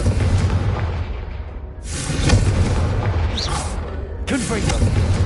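Confringo fire spell explosions in Hogwarts Legacy, two deep booming blasts with a noisy rush that decay slowly, following a voice that casts the spell.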